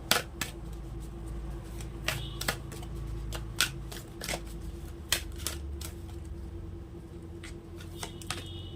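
Tarot cards being shuffled for a reading, a steady soft riffling with sharp snaps and flicks recurring throughout, close and moderately quiet, with no talk.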